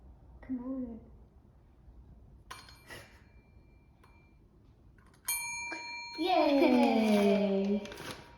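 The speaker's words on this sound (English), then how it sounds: "Can you ring it again? The bell." A small bell tapped by a cat's paw, giving a few scattered clear metallic dings that ring out and fade, while a voice speaks before and over the later strikes.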